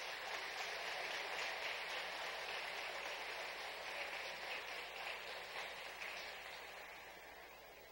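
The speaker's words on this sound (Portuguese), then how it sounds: "Vamos aplaudir as mamães." Sustained applause from a church congregation honoring mothers at a family gathering, a steady dense patter of many hands that stays fairly loud before tapering slightly toward the end.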